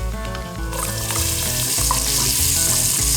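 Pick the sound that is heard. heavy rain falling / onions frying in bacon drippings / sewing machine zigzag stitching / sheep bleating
onions frying in bacon drippings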